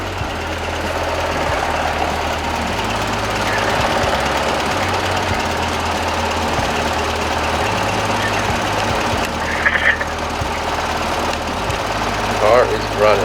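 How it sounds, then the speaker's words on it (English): A Toyota MR2 engine idles close by, running slightly lean with a steady low knocking pulse, while people talk over it and a few clinks sound near the end. "Car is running."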